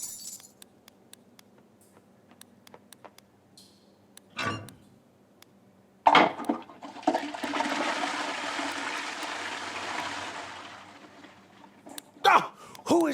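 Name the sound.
toilet flushing in the video game Loco Motive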